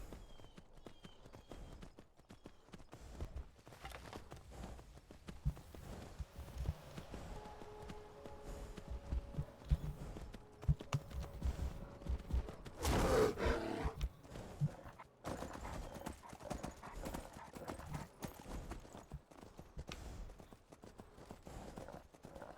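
Horse hooves clip-clopping in the video game Skyrim, a quiet irregular patter of steps across most of the stretch with a brief louder burst midway, faint and low in level.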